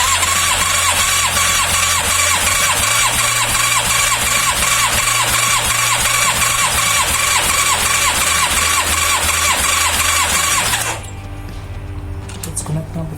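A Yamaha FZR 1000 EXUP motorcycle engine runs loud and steady at full throttle for about eleven seconds, its tone shifting once midway, then cuts back to a quieter idle.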